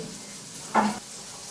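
Mackerel frying in oil in a pan gives a steady, low sizzle, with a short louder spatter burst in the middle. No one speaks.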